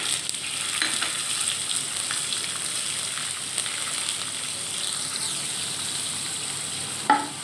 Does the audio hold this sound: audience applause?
no